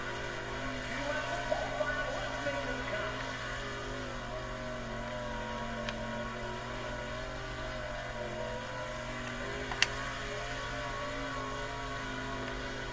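A sprint car laps the Eldora dirt oval in the World of Outlaws video game, a steady, fairly quiet engine drone running continuously with a couple of faint clicks and no talk.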